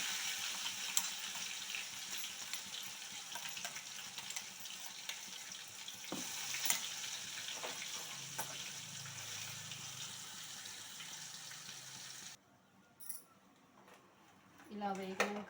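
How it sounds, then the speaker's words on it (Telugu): Ginger garlic paste fries in a pan with a loud, continuous sizzling hiss for about twelve seconds. The sizzle then drops away, leaving a quiet pause before a brief clatter at the end. "ఇప్పుడు అల్లం వెల్లుల్లి పేస్ట్ వేసుకున్నాము. ఇందులో నిమ్ము లేకుండా బాగా వేయించుకోవాలి."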